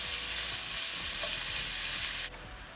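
Pepper steak fries steadily in a pan on a burner turned up to medium high, a dense continuous sizzle with faint stirring scrapes, cut off abruptly near the end.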